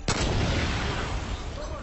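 A loud magic-shot gunshot in the video game Far Cry 5, with a sharp blast at the start that rolls into a sustained, rumbling boom lasting almost two seconds.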